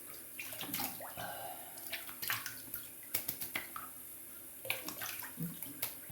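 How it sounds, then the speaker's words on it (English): Water from a tap splashes and trickles as a face is rinsed of alum after shaving, close and fairly quiet, with irregular splashes and drips over a steady faint hiss. "Now, just rinse off the alum really quick."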